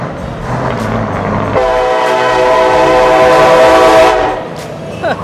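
A truck horn blasts at an Irish truck show decibel contest, a long, loud, steady tonal blare of about two and a half seconds rising over crowd and engine noise, then fading.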